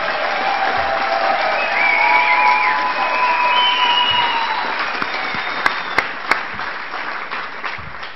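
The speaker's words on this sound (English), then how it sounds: "Massive round of applause." Crowd applause and cheering at the F1 in Schools 2013 World Finals awards celebration in Austin, Texas: sustained loud clapping with whoops from a large audience, tapering slightly toward the end.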